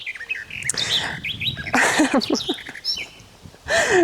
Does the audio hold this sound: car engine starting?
no